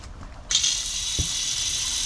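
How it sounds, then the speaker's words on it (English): An RV black tank flush line opens with a sudden hiss of rushing water as the solenoid valve clicks open, then the flow continues as a steady spray, with a soft thump partway through. "that solenoid valve opens"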